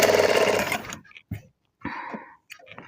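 A sewing machine stitches the side seam of a plain blouse in one loud continuous run, then stops; short bursts of talk and brief handling sounds follow in a quiet room.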